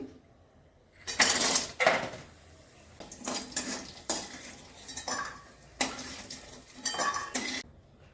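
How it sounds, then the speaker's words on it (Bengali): Bori lentil dumplings frying in mustard oil in a kitchen, with loud bursts of scraping and clattering from a spatula against the pan in irregular strokes, separated by quieter stretches of soft sizzle. "প্রথমেই বড়িগুলো ভেজে নিচ্ছি"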